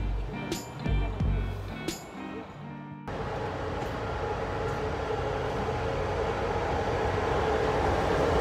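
A train bound for Sibiu in Transylvania, Romania rumbles along with a steady, dense roar of wheels on track, preceded by a few seconds of talking and clunking.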